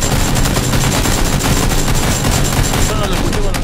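Dense, loud gunfire crackles throughout a PlayerUnknown's Battlegrounds match, rapid automatic bursts close by with no pauses between them.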